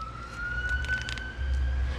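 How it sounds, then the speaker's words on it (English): A siren wails steadily at a distance, its tone holding fairly level over a low rumble of traffic or engine noise. "so it's like, oh, sirens."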